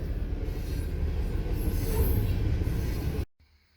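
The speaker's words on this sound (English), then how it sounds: "now I'm stopped by the train" Train passing at a railroad crossing in Minnesota: a loud, close, continuous rumble of rolling cars with wheel noise that cuts off abruptly near the end.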